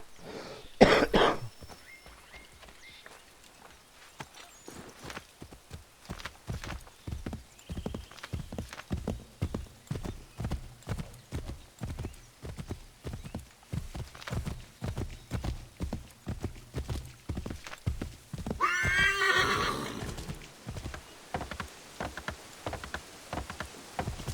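Steady, rhythmic hoofbeats of a horse in the video game Assassin's Creed III clop along for a long stretch at a trotting pace, with a brief whinny rising near the end over faint background ambience.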